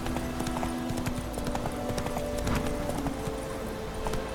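Roach, a horse in The Witcher 3, gallops at a steady clip-clop rhythm, hoofbeats clear and continuous under a faint in-game hum.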